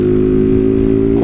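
Loud, close Honda Titan 160 motorcycle engine running without its air filter, a steady droning idle-to-rev note held throughout, rising slightly at the very end.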